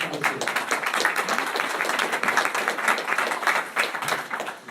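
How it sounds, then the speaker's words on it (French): Dense audience applause for speaker Philippe Morizot at ENGIE's FabCamp Hydrogène event, a steady wash of many hands clapping throughout, fairly close and even in level. "Philippe Morizot, que vous pouvez encourager par des applaudissements"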